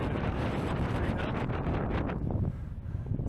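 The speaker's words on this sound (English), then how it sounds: "Still very windy," Strong wind buffets a New Zealand hilltop, a heavy, continuous roar with gusty rushes that briefly eases near the end.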